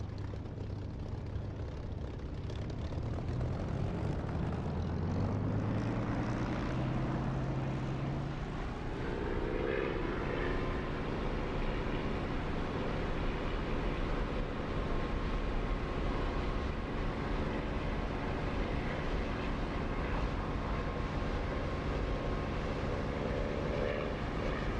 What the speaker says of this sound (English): Not a very nice takeoff, but I'm up.